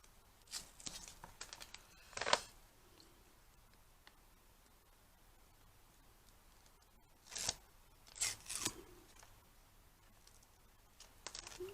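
Scissors cut paper for a handmade wallet-style scrapbooking card, heard as a few quiet, close snips in small clusters separated by stretches of near silence.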